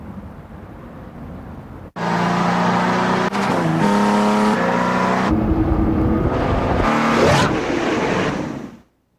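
BMW 3 Series car engine in a TV advert, starting abruptly and revving loud and close through several rising and falling gear pulls for about seven seconds before cutting off.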